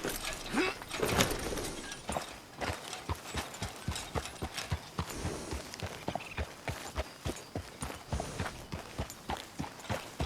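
Horse hooves clip-clop steadily in the video game Red Dead Redemption 2 during a dark night ride, a regular walking rhythm of close, distinct hoofbeats running the whole time with no voices.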